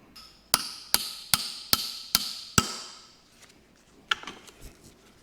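A hammer bends steel washers into a cupped shape during a mower repair. Six sharp, evenly spaced metallic strikes ring out close by, followed by a pause and a couple of lighter taps.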